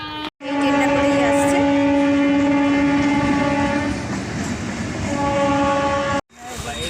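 A train arriving at Bishnupriya station blasts a long, loud, sustained horn over rumbling wheels and clatter. The horn cuts off abruptly near the end.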